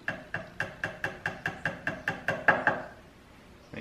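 A dowel pin being hammered back into a 4L80E transmission part during a Transgo HD2 kit install, about eleven steady, evenly spaced close metallic taps that slow slightly near the end, with no talking.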